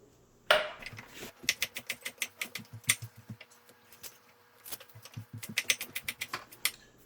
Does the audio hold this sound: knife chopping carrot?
yes